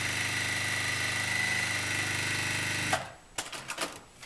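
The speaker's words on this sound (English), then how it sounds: "be very gentle with your fabrics as you match them together and feed them under your sewing machine" Sewing machine stitching fabric strip sets for a nine patch quilt, running as a steady close mechanical whir for about three seconds, then stopping, followed by a few soft clicks and handling sounds.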